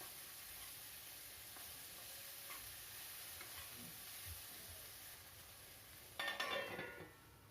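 Potatoes cooking in a covered pan with turmeric and salt on low heat: a steady, faint sizzle and hiss throughout, ending in a brief louder clatter of pan or lid near the end.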